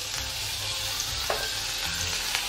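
One medium-sized chopped tomato fries in oil with a pinch of turmeric in a pan for a chutney, giving a steady close sizzle with soft stirring scrapes and no talk.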